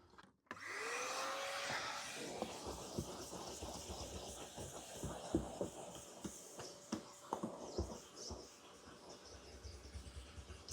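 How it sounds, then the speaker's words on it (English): A vacuum cleaner hoovers the floor pan of an MG B, a steady whine running throughout with repeated bumps and scuffs as the nozzle knocks against the floor, fairly close and alone without talk. "Ideal time now to give the floor pan a bit of a hoover out."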